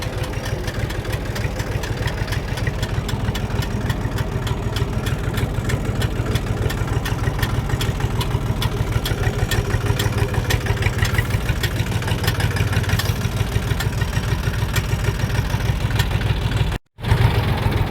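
A Kentavr 244 tractor drives toward a small field plot, its engine running with a loud, steady, close drone and a rapid, even throb that holds for the whole stretch. A brief dropout comes near the end.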